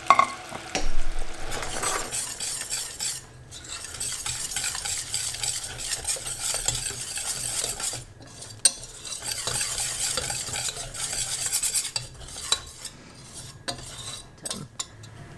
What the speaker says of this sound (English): add the cashew nut powder in and whisk it so that it doesn't have any lumps in it